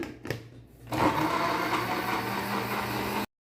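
An electric blender whirs loudly and steadily, churning a slush of blackberries, banana, fresh milk and two spoons of sugar. A few short knocks come first, then the motor runs at full speed for about two seconds before it abruptly stops.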